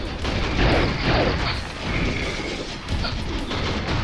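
A player fires repeatedly at a boss in the video game Devilated, producing a dense, continuous barrage of booming shots and explosive impacts layered over chaotic game effects.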